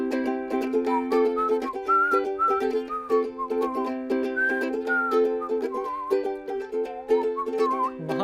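A person whistles a lively, wandering tune over a steady plucked-string accompaniment, continuous and close.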